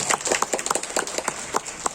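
An audience at a talk bursts into applause, a lively patter of many hands clapping close and fairly loud, the quick irregular claps overlapping into a continuous ripple.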